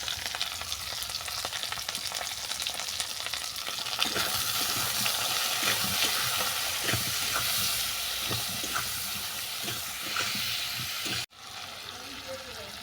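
Khoyra fish curry frying in a pan, a loud continuous sizzle and hiss of oil with spices, broken by scraping stirring strokes; the sizzle briefly drops away near the end before resuming.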